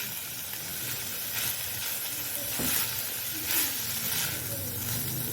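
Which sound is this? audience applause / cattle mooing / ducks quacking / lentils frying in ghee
lentils frying in ghee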